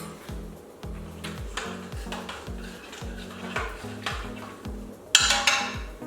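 A spoon stirs mango oat groats in a pot, giving repeated scraping and clinking strokes in a steady rhythm, with a brief louder clatter near the end and no voices.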